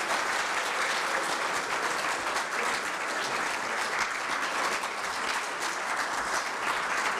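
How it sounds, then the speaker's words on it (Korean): A university forum audience in a lecture hall gives a speaker dense, sustained applause, a continuous wash of many hands clapping with no voices heard over it. "뜨거운 박수로 맞아 주시기 바라겠습니다"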